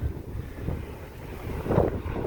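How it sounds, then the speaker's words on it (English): Highway traffic heard from a yard on a Sunday, with diesel trucks passing: a low, continuous, wind-like rumble at a distance, steady with slight swells and no voices. "Sorry about the highway noise."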